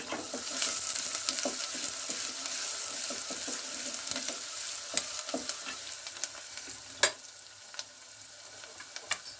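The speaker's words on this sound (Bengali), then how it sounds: "এবার আমি তেলের মধ্যে পেঁয়াজ কুচিগুলো নেড়ে চেড়ে লাল করে নেব।" Chopped onions frying and being stirred in hot oil for a chicken dish, a steady soft sizzle with scraping and clinks of the spoon against the pan, fairly close, with no talking.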